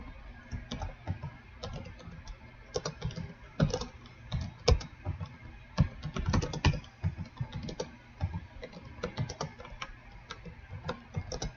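Rapid, uneven typing on a computer keyboard, a steady run of close, crisp key clicks with occasional heavier strokes, heard alone without talk.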